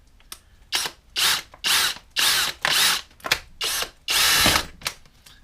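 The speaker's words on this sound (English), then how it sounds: "I'm just going to use a drill just for ease." A power drill bores out the swirl barrier inside a fuel tank, running in about eight loud, close bursts of high whine separated by short pauses, with no talking.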